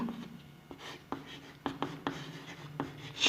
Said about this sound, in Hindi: यहाँ मैं लिख दे रहा हूँ